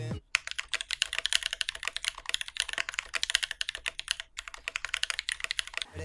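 Fast, even typing on a 60% bottom-mount mechanical keyboard resting on a desk, a dense patter of crisp clacks with two short pauses, close and fairly quiet.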